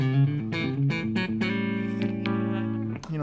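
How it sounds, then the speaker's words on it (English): Electric guitar played clean and loud through a 100-watt plexi amplifier, a series of bright picked notes and chords ringing with sustained harmonics, close and full. "Here's the clean tone of just the plexi."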